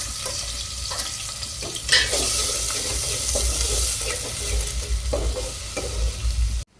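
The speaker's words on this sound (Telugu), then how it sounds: "ఆయిల్ వేడయింది పచ్చిమిరకాయలు ఉల్లిపాయలు వేసుకుందాం" Green chillies and chopped onions fry in hot oil for a prawn and okra stew, giving a loud, steady sizzle with stirring scrapes and a brighter burst about two seconds in, continuing without talk.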